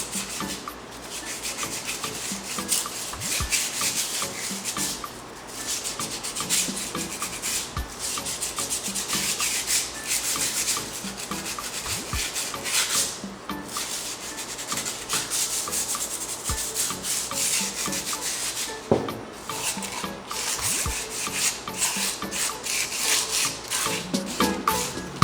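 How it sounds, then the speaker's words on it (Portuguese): Hand sanding a cement craft vase with sandpaper to smooth off rough burrs, a steady scratchy rubbing that repeats in close, continuous strokes throughout with no talking. "é só a gente lixar"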